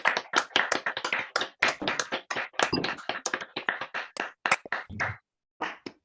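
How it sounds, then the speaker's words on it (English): Scattered applause from a small online audience joining by unmuted microphones at a virtual poetry collection launch, uneven claps in bursts for about six seconds before dropping off near the end. "Let's all take a moment to unmute and applaud at this point."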